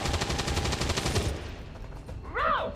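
Gunfire from a soldier in the strategy game XCOM 2, with a rapid rattling burst up front fading into a low rumble, then a rising and falling electronic tone near the end.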